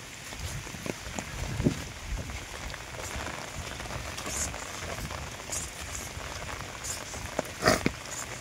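Rain falls steadily in hilly forest country as a soft, continuous patter, with a few louder drops or gusts standing out near the end.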